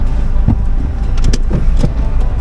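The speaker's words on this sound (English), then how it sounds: "They are washing our car." Car being washed at a car wash, heard from inside the vehicle: muffled thumps and whooshing spray bursts land irregularly against the body over a steady low rumble, loud and close, with no talk.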